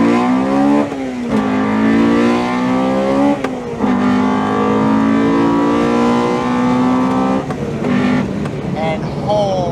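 A shrill, high-revving Honda DC2 Integra Type R VTEC engine climbs repeatedly, pausing briefly at several gear shifts before rising again, loud and close, with a short voice near the end.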